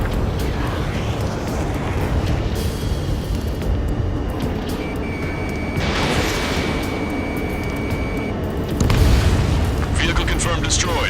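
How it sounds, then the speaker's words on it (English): Missile launch and blast in the jet combat game Ace Combat 7: a steady, loud roaring rush fills the whole stretch, topped near the end by a heavier booming burst. "missile launched"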